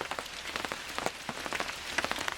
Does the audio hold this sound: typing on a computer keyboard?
no